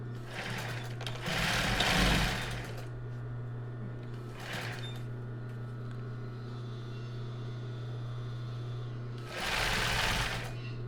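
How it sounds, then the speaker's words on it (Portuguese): An electric sewing machine stitches fabric for a strapless cake topper in short whirring bursts separated by pauses, with a steady low hum underneath throughout. "Vou costurar o outro lado."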